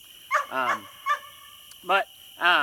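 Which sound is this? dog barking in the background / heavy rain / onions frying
dog barking in the background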